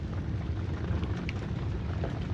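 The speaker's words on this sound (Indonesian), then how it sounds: "Saya coba tungguin tapi belum berhenti juga hujannya. Masih gerimis ya." Light early-morning drizzle falling at a night fishing spot on a bagan platform in Kohod, a soft continuous patter with low rumbling background noise, steady and fairly faint, with no voices.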